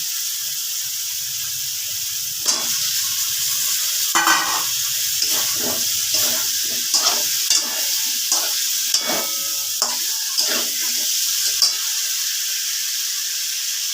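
Fish pieces dropped into a fried masala for a Bengali pakal fish curry: a low sizzle runs under a string of stirring scrapes and soft knocks, close and moderately loud, with no one talking.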